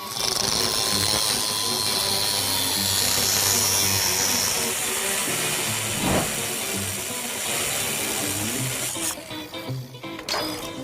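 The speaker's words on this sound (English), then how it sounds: "I'm gonna cut these off of the Samurai plates and weld them on in the right place over there." A cutting tool works through metal, removing shock pins from Samurai spring plates on a 1964 Chevy Nova build; a steady loud harsh hiss and grind runs throughout and breaks off into short bursts near the end.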